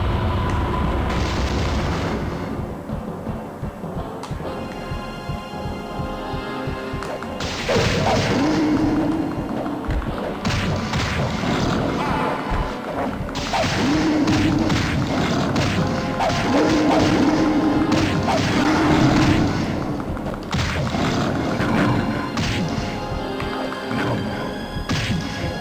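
Loud crashing blasts and thuds from enemies exploding in the arcade video game Gauntlet Legends burst repeatedly over busy game music and effects, coming in dense clusters.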